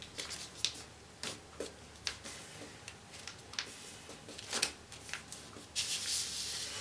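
Paper is folded for an origami bird, with soft crinkles, rubs and crisp creasing taps in an irregular rhythm, close and fairly quiet.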